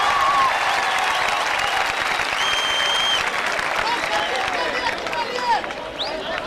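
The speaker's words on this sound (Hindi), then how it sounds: "कुछ तालियां इनके लिए भी बजा दीजिए जिन्होंने अवार्ड लिए हैं" An audience at an awards event claps steadily for the winners, a dense wash of applause running throughout with faint crowd murmur and brief tonal sounds over it.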